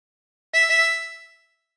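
Two quick blown notes on hole eight of a harmonica, clear and close, sound back to back after a moment of silence and fade within about a second.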